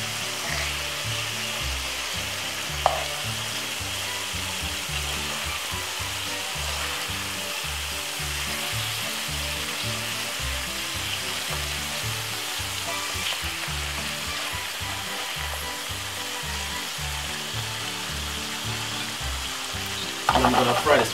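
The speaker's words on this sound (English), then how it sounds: "So I'm gonna pan fry the bacon for roughly about 5 to 6 minutes until you see they get really brown" Bacon pan-fries over medium heat with a constant dense sizzle and crackle, close and even throughout, with a small clatter near the end.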